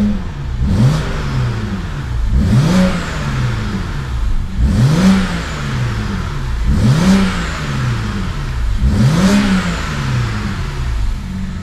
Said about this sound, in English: Let's give it a bit of a rev.